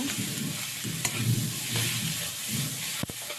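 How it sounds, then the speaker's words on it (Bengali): Spices and potatoes frying in a wok in leftover fish-frying oil, a steady close sizzle with stirring scrapes and a sharp clack near the end, no talk. "মশলাটা আলুর সাথে আবারও ভাজা ভাজা করে নেব"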